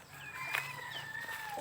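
Free-ranging chickens following a person outdoors, clucking and squawking nearby in a short, busy burst of rising, drawn-out calls.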